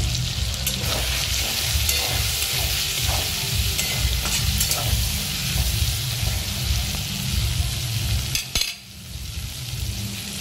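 Shrimp fry with ground cumin in a hot pan, giving a loud, continuous sizzle with rhythmic stirring scrapes and a brief clatter near the end.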